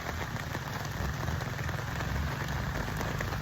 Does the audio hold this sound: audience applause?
no